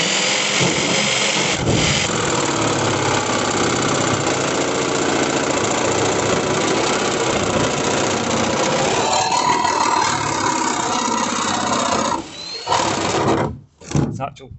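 A power saw cuts a window opening through the metal side panel of a 2019 Peugeot Boxer van. It is a loud, continuous whine that shudders and stops near the end, with a few halting restarts.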